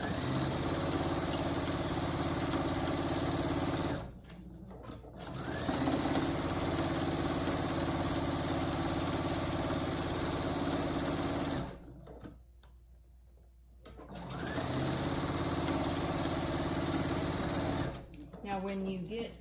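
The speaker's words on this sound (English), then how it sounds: "we're just gonna sew the seam all the way around" A sewing machine stitches the hem of a pillowcase dress in loud, steady mechanical runs that break off twice into short pauses before starting again. A person talks during the stops.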